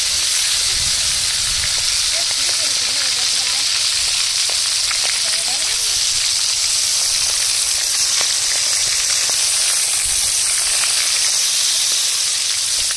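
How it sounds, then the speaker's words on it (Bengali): Shol fish frying in hot oil, a loud, continuous close-up sizzle and hiss with bubbling crackles throughout, with a faint voice briefly audible underneath. "তেল গরম হয়ে গেছে, এবার মাছগুলো ভেজে নেব।"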